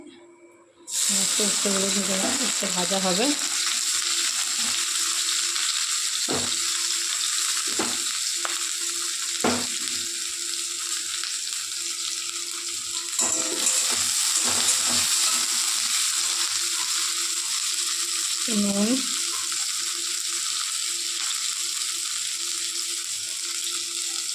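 Steady, loud sizzling of bitter gourd slices frying in hot oil, with occasional clinks and stirring scrapes over the constant crackle.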